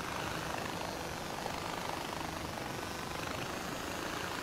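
Helicopter in the Far Cry 4 video game, a steady, dense rotor and engine roar that holds at an even level throughout without any talk.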